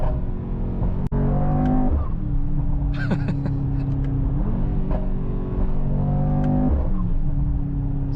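A Mercedes-AMG GT 63 S E Performance hybrid accelerates hard on the road. The loud, close engine note climbs in pitch in repeated surges, with short breaks between them like gear shifts.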